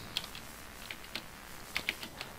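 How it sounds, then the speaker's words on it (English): A Quickfire Pro mechanical keyboard is pressed in a few scattered, crisp clicks, faint and close, with no talking. "If you can hear me like pressing the buttons on my keyboard"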